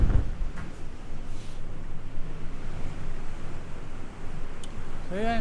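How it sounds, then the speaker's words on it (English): Wind gusts through a stone archway at a castle, a steady, loud roar of blustery air buffeting close to the microphone. "the wind's gushing through this archway"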